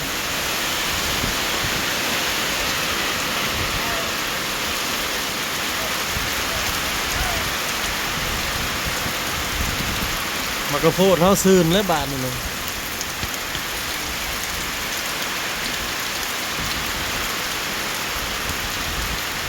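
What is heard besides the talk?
heavy rain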